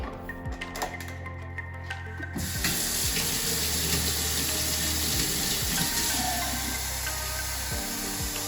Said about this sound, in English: So let's put some nice warm water into the tank.